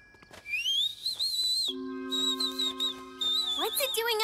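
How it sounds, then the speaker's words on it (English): A bird call at night sounds as clear rising whistles with a few sustained tones, fairly close and alone, followed by quick chirping notes near the end. "There, a bird."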